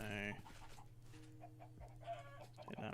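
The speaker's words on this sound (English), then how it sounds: "I think I'm just gonna have to kill a couple of chickens." Chickens in Minecraft cluck in short, bright bursts over a steady low game tone, with a few more muffled calls and sparse blips following close by.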